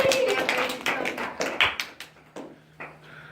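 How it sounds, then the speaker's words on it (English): A small audience at a book talk show claps for a guest, a brief burst of scattered, uneven hand claps that thins out into a few isolated claps. "Give Penelope here a big round of applause."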